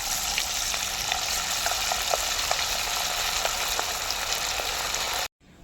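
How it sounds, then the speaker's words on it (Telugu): Coated chicken pieces for chicken manchurian fry in a pan with a steady, loud crackling sizzle and scattered pops, cutting off abruptly near the end. "మిగతా ఉన్న చికెన్ కూడా మనం వేయించుకుందాం"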